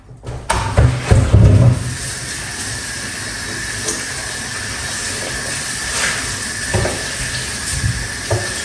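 Tap water runs steadily, hissing, while something is rinsed in a home kitchen. A few louder splashes and clatters come at the start, then the stream holds near and constant with no talk.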